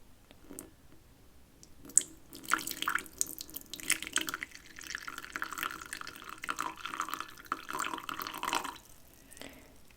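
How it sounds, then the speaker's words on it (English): Freshly steeped tea pours from a pot into a cup, a steady close trickle that starts after a soft clink and runs for several seconds before tapering off, with no talk over it. "I'm gonna pour myself just a little bit since I don't think it's fully steeped yet."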